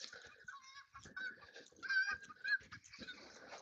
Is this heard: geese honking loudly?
yes